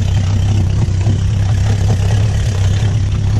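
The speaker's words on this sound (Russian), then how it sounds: "Так, запускаем новый моторчик." A Mercury 80 EFI outboard motor on a NorthSilver 520 Fish boat idles with a steady, loud low hum that stays even throughout, with no voices over it.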